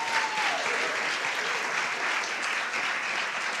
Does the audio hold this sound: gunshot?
no